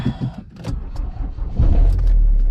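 A diesel engine of a Citroen C3 HDi car cranks briefly and catches, settling into a loud, steady low rumble at close range.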